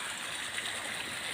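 Water from a hose fed by a mountain spring rushes and splashes in a steady, continuous stream, close and fairly loud with no talking.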